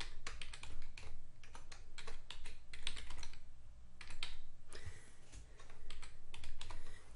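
Rapid clicking of computer keyboard keys as a complex password is typed, in steady bursts with short pauses, close and clear with no talking.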